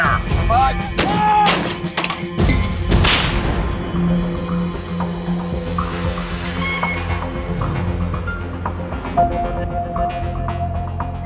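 Artillery guns, including 105 mm light howitzers, fire on a modern battlefield. Several sharp, loud, cracking blasts come early on, followed by booming reverberation and a busy mix of mechanical and background noise. Voices can be heard underneath.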